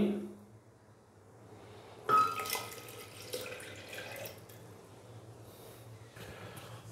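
After a quiet moment, a glass of cold water is poured into a blender jar with salt and mint for a mint lemonade, in a short gushing splash that trails off into soft trickles.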